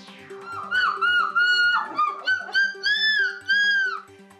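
A person mimics a seagull's cry at a seagull-calling contest in a Belgian café, giving a series of rising and falling squawking wails, loud and close, with a low murmur underneath.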